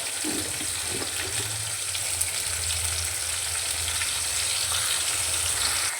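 Onions and tomatoes fry in a pan as the base for a fish curry, giving a steady, close sizzle that runs throughout. Light stirring scrapes can be heard now and then on top of it.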